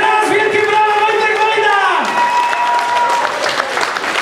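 A concert audience applauds loudly after a rock band's performance, dense clapping with shouts and whoops, while a held note rings out and a voice speaks over the crowd.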